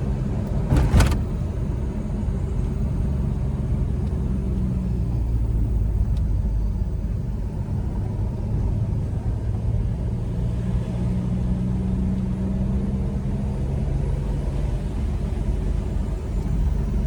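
Steady low engine rumble and road drone heard from inside a moving car on a mountain road, continuous and fairly loud, with a brief click or thump near the start and no talking.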